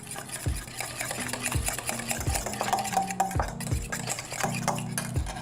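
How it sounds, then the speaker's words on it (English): Tabasco being stirred into a homemade sauce with a utensil, a series of close scraping and clinking strokes against the bowl in an uneven rhythm, with no talk. "Mix that in."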